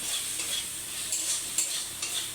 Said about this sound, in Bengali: হলুদ দিয়ে দেবো দিয়ে মশলাটা কষবো